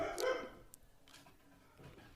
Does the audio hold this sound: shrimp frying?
no